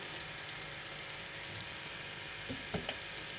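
Yogurt fries quietly in a pan over a low flame, giving a soft, steady sizzle, with a few light stirring knocks near the end and no talking.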